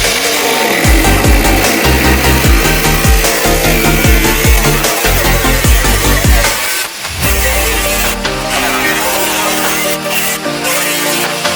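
A power tool cuts rusted metal out of a VW T4 Doka van in a scrapyard, loud and close, in short choppy bursts at first and then a steadier run.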